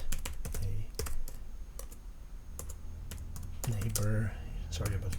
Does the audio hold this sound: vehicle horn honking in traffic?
no